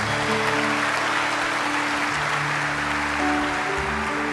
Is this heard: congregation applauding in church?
yes